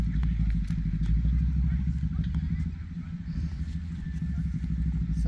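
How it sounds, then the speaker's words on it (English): A car revving its engine at a park, a steady low rumbling engine drone with slight rises in pitch, heard from a distance under a person talking nearby. "there's a car revving its engine."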